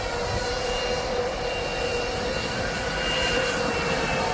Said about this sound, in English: now this Jet2 is off back to Manchester